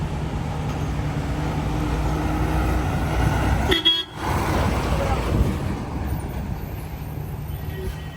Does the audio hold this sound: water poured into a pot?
no